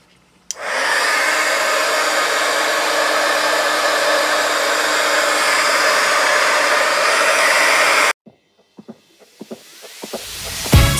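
A hair dryer blows on handmade paper craft tags for a junk journal, switching on abruptly and roaring loud and steady for about eight seconds, then cutting off into faint clicks and rustles.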